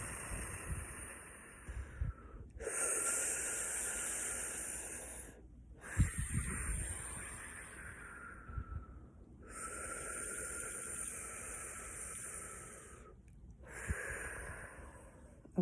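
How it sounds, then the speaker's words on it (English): Slow, deliberate breaths drawn in and pushed out through the mouth during a guided breathing exercise, several long airy hisses alternating with short pauses, close and fairly loud. "Breathe in through your mouth, and we're going to breathe out through the mouth too"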